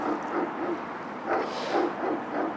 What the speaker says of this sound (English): Oh, there's that damn dog.